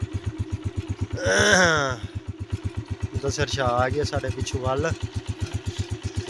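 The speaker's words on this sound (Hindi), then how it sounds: "मोटरसाइकिल पे चढ़े खड़े हैं।" A motorcycle engine idles nearby outdoors on a cold morning, a steady rapid putter pulsing evenly throughout while people talk over it.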